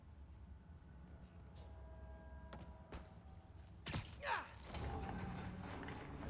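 An elevator mechanism in Marvel's Spider-Man video game: quiet mechanical creaks and clanks, a couple of sharp knocks, then a louder grinding rush toward the end, alone without talk.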